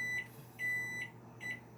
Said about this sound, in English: turn that timer off